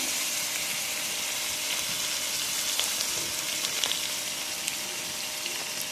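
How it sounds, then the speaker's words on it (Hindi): Chicken and onions fry in a pan as a cup of milk goes in, a steady close sizzle and hiss continuing throughout with small bubbling crackles and no voices. "अब हम इसमें जो 1 कप दूध लिया है वो हम इसमें डाल देंगे।"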